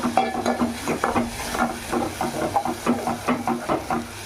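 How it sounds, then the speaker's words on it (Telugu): Spinach stirred with a ladle in a frying pan for palak pulao, giving a steady run of scraping strokes over a soft sizzle, close and fairly loud with no talk. "దాంట్లోకి పాలకూర వేసేద్దాము. ఒకసారి గరిటె పెట్టి తిప్పుకుందాము."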